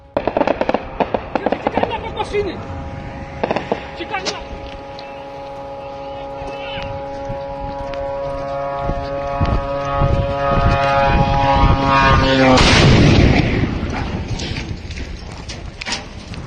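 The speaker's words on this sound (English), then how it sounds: "The moment a Shahed attacked a Ukrainian mobile fire group that was hunting it" A Shahed drone closes on a Ukrainian mobile fire group in the Chernihiv region with a droning, shifting engine whine amid sharp crackles, ending in a loud blast near the end, while voices are heard.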